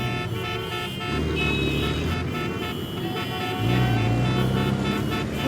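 Car horns honk in dense street traffic, several overlapping toots held over a steady roar of engines, loud and close, with a deeper rumble of traffic swelling near the end.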